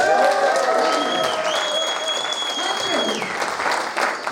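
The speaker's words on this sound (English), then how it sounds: "Let me hear a round of applause again, please" A crowd applauds at Play Expo Blackpool, a retro gaming convention, with steady clapping over the whole span while tonal electronic sounds and voices carry through the hall.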